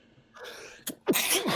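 A person gives a single close sneeze, a quick in-drawn breath building into a sharp, loud burst at the end, with no talk during it.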